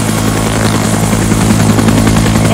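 A medical helicopter flies close overhead, its rotor chop a loud, steady, pulsing thrum that fills the whole stretch with no voices over it.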